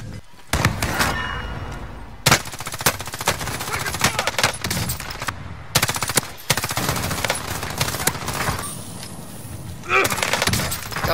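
Heavy automatic gunfire in a shooter video game with akimbo pistols rattles in loud, dense bursts almost without pause, mixed with breaking and impact effects, while players talk over the shooting.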